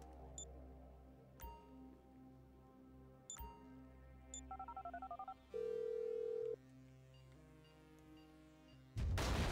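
In-game phone in GTA V: several short beeps, a rapid run of dialing tones, then a steady ringback tone, ending in a sudden loud burst of noise.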